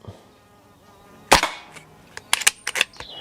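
Plinking with a suppressed Stoeger XM1 S4 PCP air rifle, 4.5 mm and 20 joules: a single sharp shot cracks out, then a cluster of short clicks and taps follows close by.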